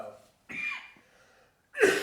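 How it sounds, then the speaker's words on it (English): A man coughs a few times in short, sharp bursts with pauses between them, heard close and on its own. "I'm glad I'm saving this cough to the end"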